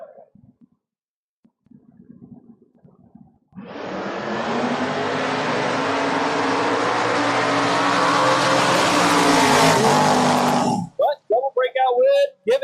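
Mustang and Vega drag racing down the strip at a door wars event: a sustained, loud, roaring engine blast rising for several seconds after a quiet start, then cutting off abruptly, followed by a public-address voice.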